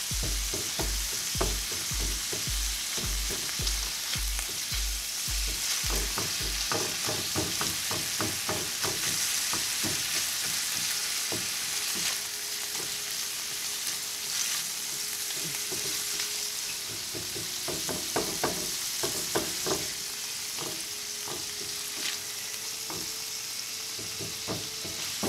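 Ground beef browning in a pan with cumin, a soft steady sizzle broken by frequent spatula scrapes and taps, busier at the start and again later, with no speech.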